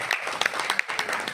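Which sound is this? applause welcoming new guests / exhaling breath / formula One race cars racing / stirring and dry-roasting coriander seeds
applause welcoming new guests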